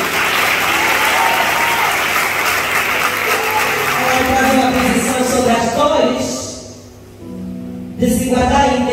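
Loud applause fills a church women's gathering, a dense crowd clapping that dips and fades briefly near the end, then surges back.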